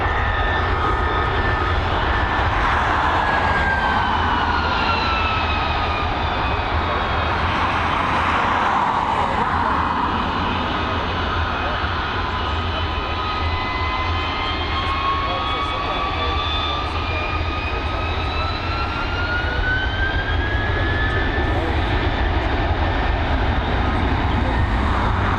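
A jet airliner runs loud and close at Dublin Airport, its broadband engine roar steady throughout with whining tones sliding up and down above it.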